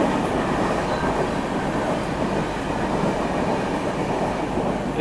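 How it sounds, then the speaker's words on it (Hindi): A Bangalore Rajdhani train overtakes the Vande Bharat Express on an Indian railway line, heard as a loud, steady rolling roar of passing coaches with faint wheel clatter, continuous and close throughout. "एक तरीके से बैंगलोर राजधानी ओवरटेक करके जा रही है वंदे भारत एक्सप्रेस को।"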